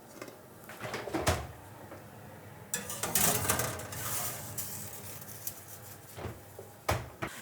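A metal baking tray of pampushki dough is slid into a home oven, giving a few clattering metallic clinks and knocks, with a louder clank near the end and no talking.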